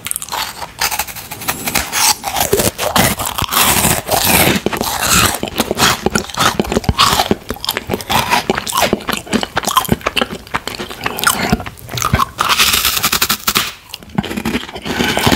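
Dense, continuous crunching and biting of crunchy freeze-dried mango, loud and close, with rapid brittle snaps and chewing filling the whole stretch and no talking.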